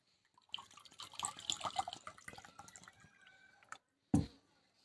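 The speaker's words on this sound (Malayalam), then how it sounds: "ആദ്യമായിട്ട് ഒരു ഗ്ലാസ്സിൽ വെള്ളം ഒഴിക്കാം" Mineral water splashes into a glass in a short, bubbling pour that fades out. A single sharp clink follows once it stops, close and quiet.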